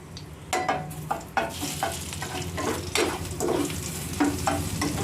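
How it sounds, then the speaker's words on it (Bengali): Crushed garlic hits hot oil for a spicy eggplant and dried-shrimp curry, frying with a close, steady sizzle while a spatula scrapes and stirs in repeated, irregular strokes; no voices. "এবার দিয়ে দিচ্ছি রসুনটা থেতো করে রেখেছিলাম সেই রসুনটা একটু নেড়ে চেড়ে"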